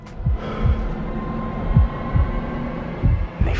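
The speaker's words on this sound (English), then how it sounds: "It's a heartbeat." Cinematic heartbeat effect from a movie trailer: deep, booming low thumps in irregular pairs over a sustained droning hum, with no talk.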